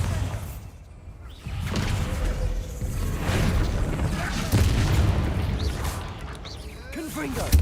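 A Bombarda spell goes off in Hogwarts Legacy with a deep, rumbling blast and swooshing magical effects, layered over game ambience. A voice speaks the spell incantations over the action.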